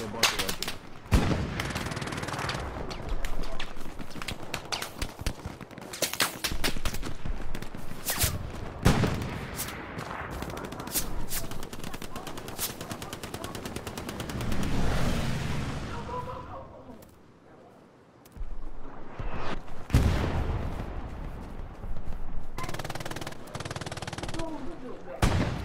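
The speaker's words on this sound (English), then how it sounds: "They got an MG in their bunker right there." Machine gun fire pours from a bunker in the WWII shooter game Hell Let Loose: long, dense bursts of rapid shots mixed with heavy battlefield booms, loud and nearly continuous with only a brief lull.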